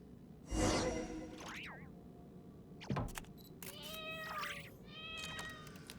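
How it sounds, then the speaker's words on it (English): A cat meows from behind a painting in Genshin Impact, several short rising-falling mews spaced across the moment, moderately loud over game ambience, with chirpy tonal effects and a faint voice nearby. "We'll of course save the kitty almost immediately."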